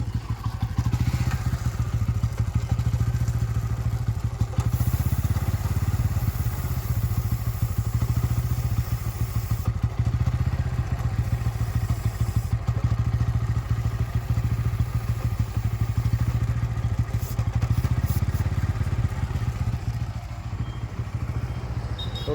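A motorcycle engine idles steadily and loudly throughout chain cleaning and lubing at home, with a continuous low rumble and light clattering, and no talking.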